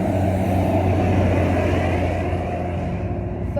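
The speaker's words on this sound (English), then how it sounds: "Sorry for that noise, y'all. That was a truck." A truck rumbles past nearby, a loud continuous low drone that holds steady and eases off slightly toward the end.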